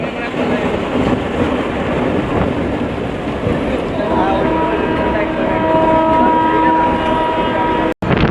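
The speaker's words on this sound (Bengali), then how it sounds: "আমাদের ট্রেনটা এখন ঢুকে গেল কাজীপাড়া স্টেশনে" Local commuter train on the Sealdah to Taki Road line rumbling loudly and continuously as it pulls into a station, wheels and carriage noise up close, with a brief sharp knock near the end.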